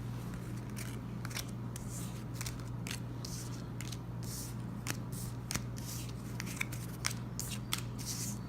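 A deck of Dungeon Alliance game cards is shuffled quietly at close range, producing soft riffling and sharp card snaps at irregular intervals.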